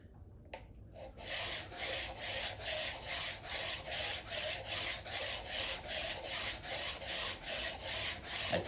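A speed skate blade is sharpened with steady back-and-forth rubbing strokes, a rapid, even, gritty rhythm that sounds close and continues without pause after a brief quiet start.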